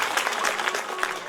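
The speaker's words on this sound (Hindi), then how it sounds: "जोरदार तालियों का वास्ता।" Steady audience applause fills the whole moment at a lively gathering, a dense wash of many hands clapping at moderate loudness with no speech over it.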